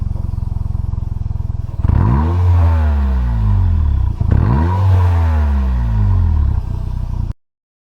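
A motorcycle fitted with an inner silencer idles with a low, even thump, then gets two light, quick revs that rise and fall back to idle, close and moderately loud before cutting off.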